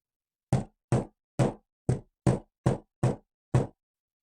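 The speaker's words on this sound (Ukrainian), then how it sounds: "Тепер давайте постукаю книжкою уголком по столу." The corner of a book knocks on a table eight times, each a sharp, close wooden tap with a short pause between, evenly paced and alone in a quiet room.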